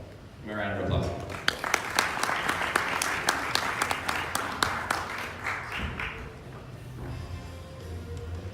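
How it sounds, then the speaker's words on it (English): An audience at a Jakarta venture summit breaks into a sustained burst of applause with sharp individual claps, rising quickly, then fading after about five seconds as voices carry on underneath. "Give me a round of applause."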